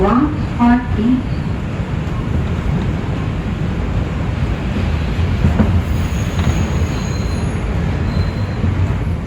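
An NYC Subway R142 2 train runs on the Bronx Express line in a loud, steady rumble with rail roar and wind noise, and a short onboard chime is heard near the start.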